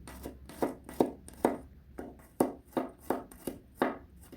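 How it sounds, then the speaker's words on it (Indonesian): Garlic cloves finely chopped with a knife on a board, about a dozen crisp, close knocks in a fairly steady rhythm, each chop distinct and sharp. "Lanjut 3 siung bawang putih. Nah, bawang putihnya ini tinggal dicincang halus saja seperti ini."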